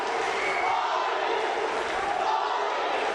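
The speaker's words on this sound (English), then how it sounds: "Crowd here in Antalya really making some noise for this young man." A crowd in Antalya roars steadily at an amateur combat sports bout, a continuous dense wash of cheering and shouting that stays loud throughout without clear breaks.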